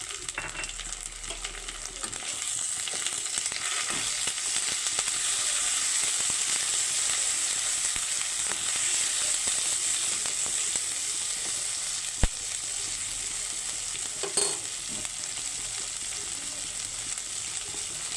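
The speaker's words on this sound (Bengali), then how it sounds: "পেঁয়াজ লাল লাল হয়ে গেছে এখন দিয়ে দিচ্ছি তেজপাতা আর এই যে গরম মশলা গুঁড়ো করে নিয়েছি" Onions browning in a pan for chicken keema ghugni, with bay leaf, ground garam masala and ginger-garlic paste added, give a steady broad sizzle throughout, with a couple of sharp clicks of utensil contact and no talking.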